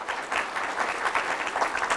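Steady, moderately distant applause from the audience at a practical nursing pinning ceremony, many hands clapping evenly throughout with no voices over it.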